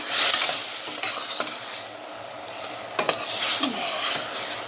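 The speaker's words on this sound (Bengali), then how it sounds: "আমার মরিচ চিংড়ি ভালো করে কষিয়ে নিলাম।" Chili shrimp sautéing in a pan: a constant close sizzle with intermittent spatula scrapes and light clinks of utensil on metal, no speech.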